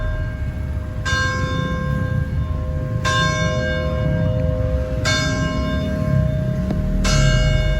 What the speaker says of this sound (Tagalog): Yan, tumutunog po ang kanilang kampana,